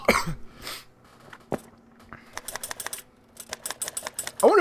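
A typewriter is typed during a Harvard lecture: irregular bursts of sharp mechanical key strikes in quick clusters, separated by quieter gaps in a hushed room.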